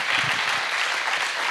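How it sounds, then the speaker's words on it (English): A brief burst of audience applause at a ceremony, a dense and steady wash of many hands clapping together, fairly loud and heard alone. "Big applause for Daniel"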